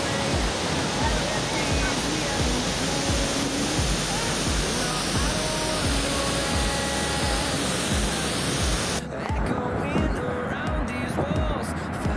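Niagara Falls pours down in a loud, continuous roar of crashing water, steady broadband rushing from start to finish, with people's voices mixed into the din.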